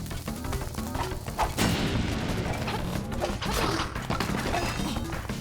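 Bomb blasts in The Legend of Zelda: Link's Awakening during a mini-boss fight, heavy booming crashes over busy game music, with several loud impacts spread through the clip and no one talking.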